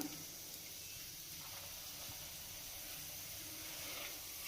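Onion dropped into hot oil in a pan for egg fried rice, making a soft, even hiss that goes on throughout at low volume, close by with no voices.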